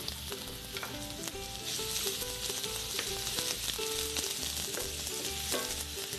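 Chopped onions and garlic sautéing in a hot pan for an asparagus torta, giving a loud, steady sizzle and crackle with occasional scrapes of stirring underneath.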